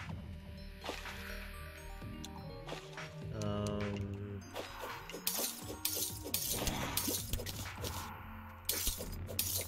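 Clay pots shatter in the video game Terraria during underground snow exploration, with several sharp breaking and clinking crashes over busy game music and effects, fairly loud throughout.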